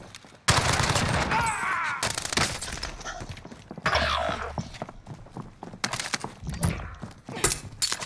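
Video game gunfire crackles in dense rapid bursts and single shots, loud and continuous throughout, mixed with impact sounds and occasional shouting voices.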